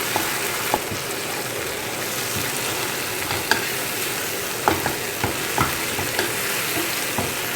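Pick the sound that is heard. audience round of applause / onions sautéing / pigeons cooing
onions sautéing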